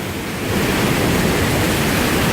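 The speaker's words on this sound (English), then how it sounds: "you can barely hear me over the water here" Blakiston Falls roars loud and close, a dense continuous rush of falling water that never lets up and would drown out a voice.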